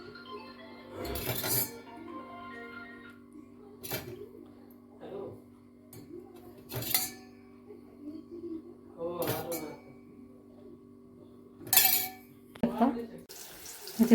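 Spoonfuls of sugar water are poured over freshly steamed dhokla in a kitchen, with soft trickles of liquid and scattered clinks of a spoon against a dish, spaced irregularly at a close, quiet level.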